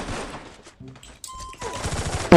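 Automatic gunfire from the Free Fire mobile battle game, with quick rattling bursts and sharp shots, some closer and louder toward the end, alongside brief in-game effect tones.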